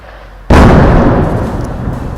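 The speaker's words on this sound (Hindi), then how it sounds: "कितनी नज़दीक ये धमाके हो रहे हैं" A single powerful blast from cross-border shelling along the Line of Control in Poonch bursts suddenly, very loud and near, then trails off into a long rumbling decay.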